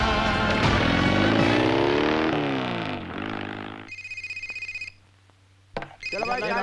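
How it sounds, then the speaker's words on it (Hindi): A telephone ringing in a Hindi action film scene, heard in short repeated bursts with pauses, alongside loud music and other noise at the start. "फोन बज रहा है, बज रहा है, ये बज रहा है"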